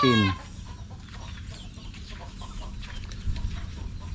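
Chickens and chicks on a farm, heard as a steady, moderately close chorus of clucking and peeping that continues throughout, opening with one louder, brief squawk.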